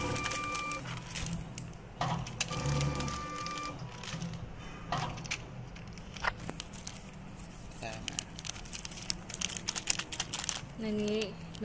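An automatic pneumatic filling machine for creams, sauces and liquids starts dispensing 75 ml portions of water, with a run of sharp clicks, clacks and short hissing bursts and a faint voice at times.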